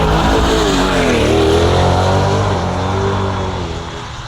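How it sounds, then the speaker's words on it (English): A Tesla Model 3 Performance and a Corvette launch off the line at a drag strip, a loud close engine and drivetrain roar that swells and then slowly fades as the cars pull away. "They're lining up the Model 3 Performance and the Corvette"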